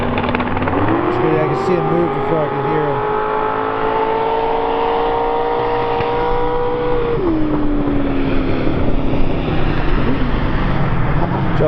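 A no-prep drag racing vehicle makes a pass at Southside Dragway, its loud engine note climbing and holding through the run before dropping off, with crowd and ambient noise around.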